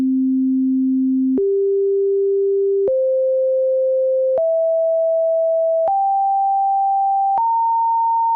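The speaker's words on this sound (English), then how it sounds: "The sine wave is just a single tone, one fundamental, no harmonics." Pure sine wave tone with no harmonics, played loud and clean as six sustained steps, each stepping up in pitch about every one and a half seconds.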